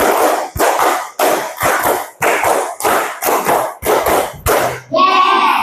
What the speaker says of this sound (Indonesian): sekarang tepuk 5 3 kali